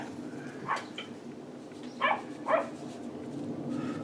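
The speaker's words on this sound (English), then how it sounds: "Oh, dog." A dog barks a few times at a distance, with short separate yips spread over a few seconds against quiet outdoor background noise on a moor.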